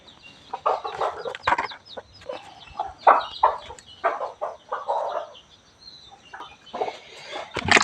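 Country chickens cluck and squawk in a busy, irregular chorus close by, with short bursts rising and falling continuously and no talk over them.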